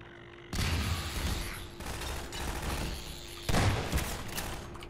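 Rapid gunfire rattles through a Half-Life 2 firefight: a steady, dense volley of shots with a louder surge near the end, fairly quiet overall.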